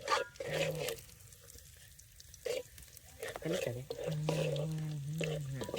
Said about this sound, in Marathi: स्टार्टिंगला कांदा पेटवून घ्यायचा, नंतर जास्त नाही पेटवायचं ना तर कडू लागेल.